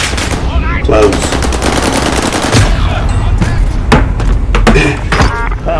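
Loud, close gunfire in a first-person shooter video game: bursts of rapid automatic fire and single heavy shots with thuds and impacts, dense and continuous, with a voice briefly under the shooting.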